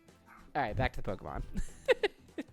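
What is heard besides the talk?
neighbor's small dog barking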